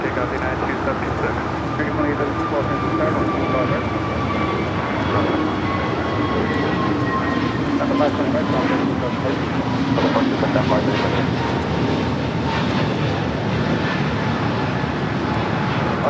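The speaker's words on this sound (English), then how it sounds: "525 taking off to San Salvador on the A320 Neo" An Avianca Airbus A320neo takes off from Los Angeles airport with a loud, steady jet roar and a whining engine tone that holds throughout, heard from a distance with no talk.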